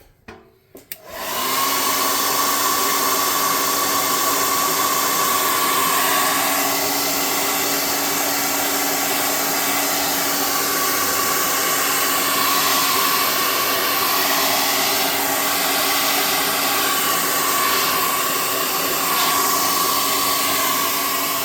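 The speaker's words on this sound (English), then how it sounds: "And I'm going to hot air gun this and dry it off." Hot air gun drying paint on cardboard model steps for a tabletop saloon build, a loud constant blowing whine with a steady tone that starts abruptly after a click and runs unbroken, nobody talking.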